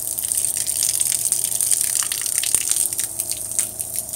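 Water gushes steadily from a tap fed by an off-grid pump system at about three gallons a minute, a continuous close-up splashing rush with small spatters and drips.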